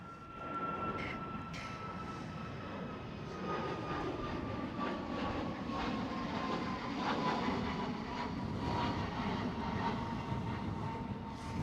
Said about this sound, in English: 737 MAX taking off. This is a MAX 8.